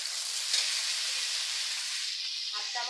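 Potatoes, carrots and drumsticks sizzling in hot oil in a pan as they go in together: a steady close hiss of frying that briefly flares up, with a few faint clinks toward the end.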